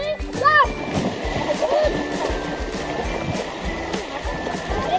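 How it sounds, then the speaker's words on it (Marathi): Water is splashed repeatedly onto arriving guests as a welcome, with irregular splashes and a watery rush, while voices can be heard over it. "त्यांच्यावर पाणी मारून मारून"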